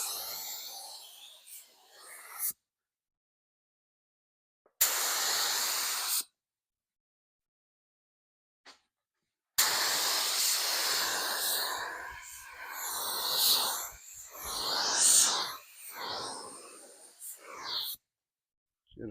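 Outdoor spray painting of fiberglass truck fenders: bursts of hissing spray, first two short passes and then a longer stretch of uneven spraying at close range.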